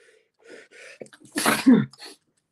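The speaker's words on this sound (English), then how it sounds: "Sorry, I just fucking sneezed." A person sneezes once, loud and close, with a sharp intake of breath and then a burst, briefly preceded by quiet speech, during a wrestling news talk show.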